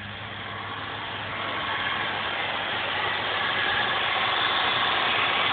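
A car engine idles steadily with a fitted Mechman alternator spinning, giving a constant broadband hum and whir that holds level and close throughout, with no talk.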